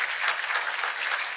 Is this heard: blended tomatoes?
no